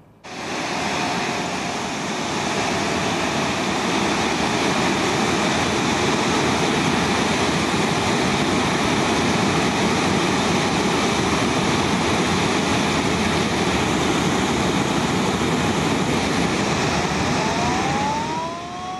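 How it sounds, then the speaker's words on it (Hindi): Water rushes through the opened Rawal Dam spillways in Islamabad in a dense, unbroken roar that stays loud and steady throughout, with no voices. "इस्लामाबाद में रावल डैम के स्पिलवेज फिर खोल दिए गए।"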